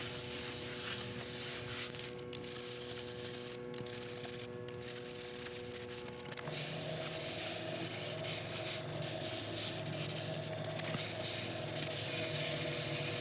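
Full strength blonde shellac being rubbed onto a woodturning, a steady scratchy friction over a constant machine hum, getting louder and denser about halfway through.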